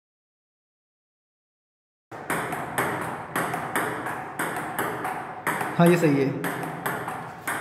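Table tennis ball bouncing in quick, regular clicks on a makeshift home table, hit back and forth at a steady rally rhythm, close and clear, with a person speaking briefly over it.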